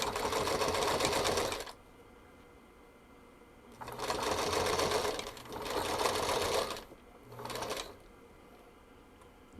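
A sewing machine stitches a quilted fabric project bag in four separate bursts of rapid, rattling whirring. The runs are close and fairly loud, with short quiet pauses between them.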